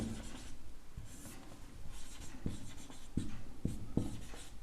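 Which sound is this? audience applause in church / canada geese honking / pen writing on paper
pen writing on paper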